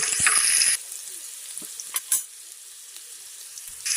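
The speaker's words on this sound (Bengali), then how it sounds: "আলুটা ভাজবো এখন আস্তে আস্তে" Potatoes frying slowly in oil left over from frying fish: a loud hissing burst at first, then a softer sizzle with a few light clinks of stirring, no speech.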